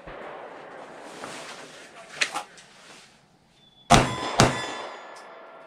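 A Glock 43X fires two sharp shots close together during live-fire holster draws at a range, preceded by muffled handling noise and faint background murmur, then loud cracks with ringing tails.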